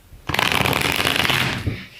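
A deck of tarot cards is shuffled in one continuous, close riffle of dense papery flutter that lasts over a second, then tapers off into a few soft slaps, with no talking over it.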